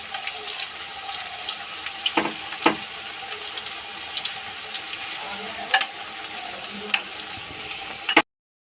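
Battered pieces for chili peas fry and are turned in a pan, a soft continuous sizzle broken by scattered crackles and a few sharp clinks of utensils, then cutting off abruptly.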